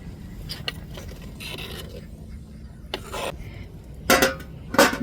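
A metal lid is lifted and scraped on a pot of boiling fish curry, giving brief close rasping and clinking bursts with a soft simmering background.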